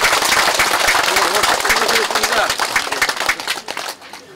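An audience gives strong applause after a lecture at a Confucian association's general meeting at Hakbong head house. Dense, loud clapping from many hands fades into scattered sharp claps over the last second.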